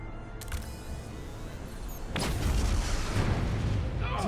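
A detonation explosion in Star Trek: Resurgence, a sudden loud blast followed by a sustained roaring rumble that carries on for several seconds.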